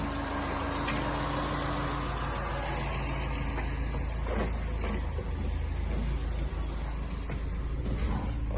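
A Citroën DS D Super 5 engine idles steadily and smoothly, a continuous close low rumble with no talk over it.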